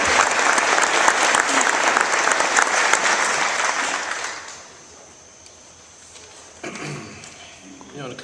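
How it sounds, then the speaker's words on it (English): Audience at an eighth-grade graduation ceremony applauds faculty and staff with loud, sustained clapping for about four seconds, then it fades into a quieter room where a voice begins speaking. "How about a round of applause?"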